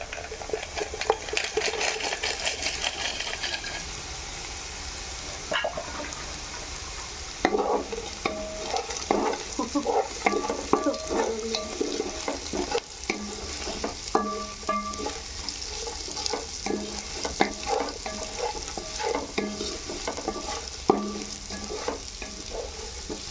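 Fish pieces are stirred into fried rice in a pan, with continuous rattling spatula scrapes and clatter over a light sizzle, busy and close throughout with no voices.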